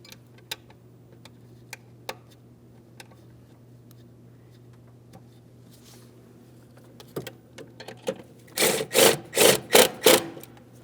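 An 8mm ignition-coil mounting bolt is tightened on a 2007-2014 Ford Edge 3.5L engine: faint scattered ticks at first, then a run of five or six loud, close ratcheting bursts in quick succession.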